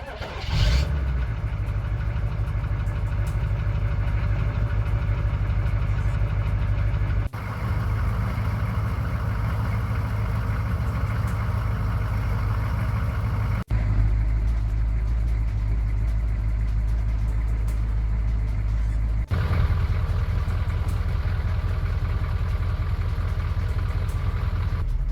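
A 6.2 diesel engine turns over and settles into a loud, steady, close-up idle with a deep low rumble that runs continuously with no other sounds.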